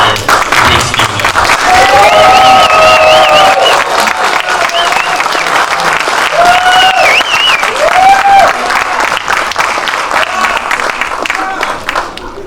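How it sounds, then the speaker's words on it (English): Audience at a Q&A with actor Stephen Lang after a Don't Breathe screening breaks into sustained applause with whoops and cheers, a dense roar of clapping lasting over ten seconds with voices calling out through it. "Could you all please give a huge, huge round of applause and a huge cheer for Breate Stephen"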